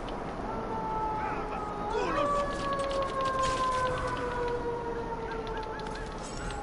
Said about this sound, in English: Can you hear those sirens?